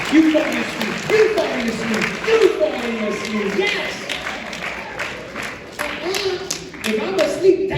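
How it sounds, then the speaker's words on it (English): A comedy-show audience breaks into applause and cheers, clapping in bursts that rise and fall while a performer keeps talking over them. "Clap only if you agree with me"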